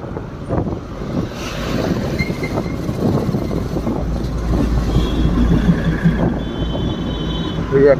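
At Ghum station in Darjeeling, a steam locomotive starts up with rhythmic chuffing and rumbling that builds steadily, loud and close, amid station bustle and faint voices.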